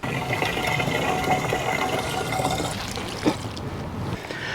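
Water pours steadily into a spray bottle for mixing a one-to-one cleaner solution, a continuous close splashing fill with a brief clunk near the end and no talking.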